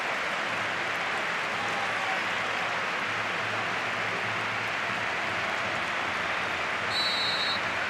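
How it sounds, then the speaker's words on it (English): A stadium crowd at a Barcelona versus Espanyol La Liga football match applauds in a steady, broad roar of distant clapping and crowd noise that continues evenly throughout. "The applause for Danny Harke, by the way, number 21 in the minute 21."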